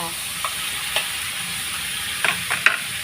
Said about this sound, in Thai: พัดไปเรื่อยๆจนหมูสามชั้นสุกดีจะสิใส่แนงกระหล่ำได้จ้ะ